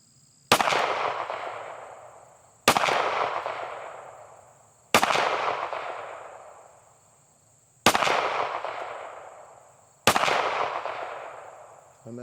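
Five single gunshots fired one-handed during a trigger finger isolation drill on a shooting range, evenly spaced about two to three seconds apart, each a loud close crack with a long fading echo.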